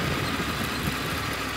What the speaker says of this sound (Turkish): Rölantide hiç gaz vermiyorum.